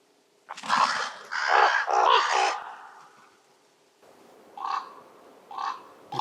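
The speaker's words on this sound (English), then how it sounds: "The crows and ravens become worried again, and the raven makes a loud noise" Crows and a raven calling outdoors: a burst of loud, harsh overlapping caws up close, then after a lull two shorter, quieter calls spaced apart, with no talking.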